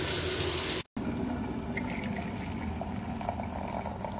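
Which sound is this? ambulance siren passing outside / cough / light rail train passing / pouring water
pouring water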